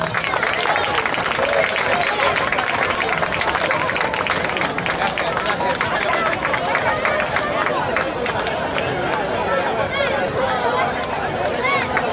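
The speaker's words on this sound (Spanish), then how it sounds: "Un aplauso para eles." Applause and crowd noise at an outdoor beach handball trophy ceremony, dense continuous clapping mixed with chatter from the gathered spectators, steady and fairly loud throughout.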